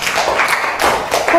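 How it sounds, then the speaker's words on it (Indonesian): Scattered clapping from students in an Indonesian classroom during a science lesson on muscles and the skeleton, applauding a classmate's answer; a short, close burst of uneven claps with no talk over it. "tepuk tangan Mbak Nia"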